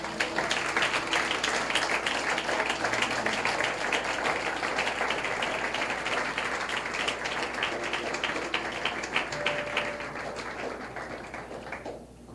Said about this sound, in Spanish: ¿Cuánto aplauden a Jesús por eso?